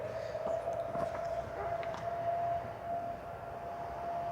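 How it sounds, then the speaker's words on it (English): An outdoor siren wails at a distance, a steady sustained tone hanging over faint background rumble and scattered noises, with no talk over it. "We have a lovely siren happening."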